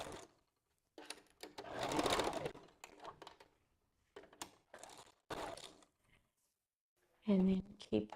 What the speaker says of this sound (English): I'm going to stitch, not forgetting to back stitch